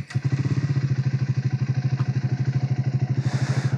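A motorcycle's engine turns over and settles into a steady, loping idle, its low pulsing thumps close and even, with a brief hiss near the end and no talk.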